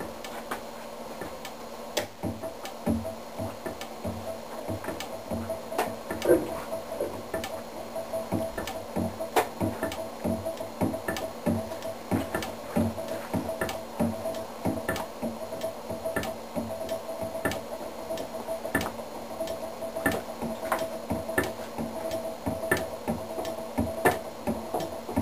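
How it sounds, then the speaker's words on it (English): A pendulum drive runs with its pancake motor powered and the arm locked, producing a steady train of sharp, evenly spaced ticks over a faint constant hum for the whole stretch, no voices. "So here's a brief run with the arm locked."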